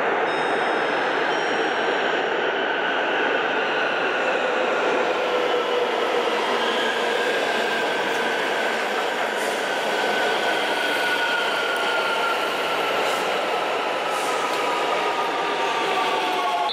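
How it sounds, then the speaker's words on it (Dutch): An S-Bahn commuter train at Leipzig Hauptbahnhof runs steadily and loudly throughout, with a continuous rolling rumble and faint high wheel whine, no voices. "dan wil ik heel even wat opnames maken van de S-baan"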